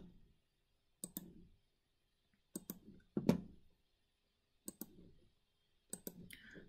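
Sharp mouse clicks from drawing lines in CAD software, arriving in close pairs and small clusters with quiet gaps between, nearby and fairly faint.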